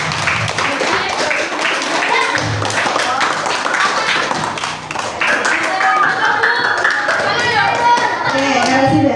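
Children in a primary school classroom clap in time to a teacher's call, with a dense, busy patter of small hands and chatter in a noisy room.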